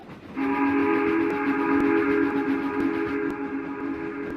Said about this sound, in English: Then he heard a whistle that was not familiar to him